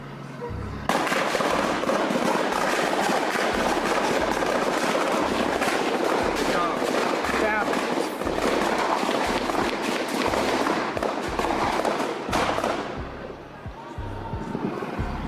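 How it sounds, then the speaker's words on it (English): Many gunshots ring out in news footage of the Boston Marathon bombing manhunt, a dense, continuous crackle of rapid shots lasting over ten seconds, loud and chaotic, with a low background hum. "Shot fired, multiple shots."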